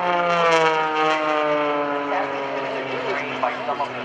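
Propeller airplane engine running at a naval air station airshow, a loud sustained droning hum with steady harmonic tones that waver slightly, close by and without talk.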